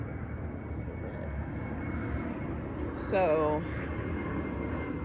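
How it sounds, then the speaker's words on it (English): An airplane passes overhead above a garden, its engine roar rising as a broad constant rumble under a brief spoken word, while a bird chirps sharply in the middle. "that plane is loud"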